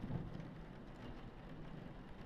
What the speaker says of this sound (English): Ooh, big thunder.